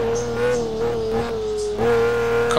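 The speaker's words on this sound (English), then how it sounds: "John Ludden in the extremely loud Pagani Zonda" A Pagani Zonda GT1 race car roars at Road America during qualifying, its engine loud, steady and close, holding a strong high-revving tone with a brief dip and surge near the end.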